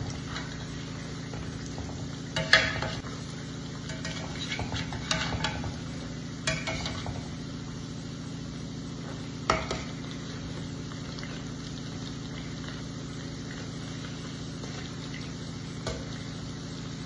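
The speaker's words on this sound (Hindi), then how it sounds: "देखिए हमारे अच्छी तरह से फ्राई हो गए, शेप ले लिया इन लोगों ने। तो अब हम इनको भी पलट देंगे।" Vadas, Rajasthani kanji wada lentil fritters, sizzle steadily in hot oil, with a few soft clatters and scrapes as they are stirred and turned partway through.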